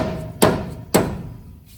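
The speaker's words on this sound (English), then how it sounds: "can you hear it's kind of like a maraca? There's little beans in here and it's a soft hammer" Two sharp strikes from a soft dead blow hammer filled with loose beans, about half a second apart, each ringing briefly with a rattly decay, heard during a rear axle swap on a sixth generation Ford Bronco.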